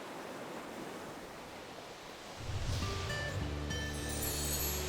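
Surf at Galleon Beach, Antigua, gives a steady broadband wash that swells louder halfway through, with a faint tonal hum joining in, and no voices.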